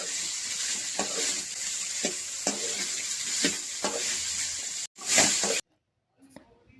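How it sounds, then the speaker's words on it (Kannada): Onions fry in butter in a pan while being stirred, a steady close sizzle broken by regular scraping strokes, then a brief louder burst before cutting off to near silence. "ಬಟಾರ್ ಹಾಕಿದ ಮೇಲೆ ಎಲ್ಲ ಈರುಳ್ಳಿ ಐಟಮ್ ಎಲ್ಲ ಹಾಕಿ ಚೆನ್ನಾಗಿ ಫ್ರೈ ಮಾಡ್ಕೊಬೇಕು"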